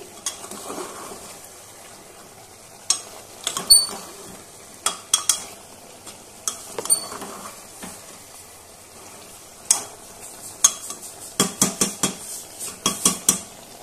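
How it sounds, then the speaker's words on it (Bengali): Chicken curry stirred and fried in a pan, with a spoon scraping and clinking against the metal in irregular bursts over a faint background sizzle, and nobody speaking. "তো 5-7 মিনিট পর ঢাকনা খুলে আবার কষিয়ে নিচ্ছি।"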